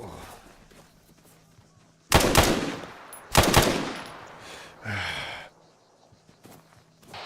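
Frag grenade detonating in the ArmA 3 military game, two loud sharp booming blasts in quick succession followed by a softer burst, over a low background hum.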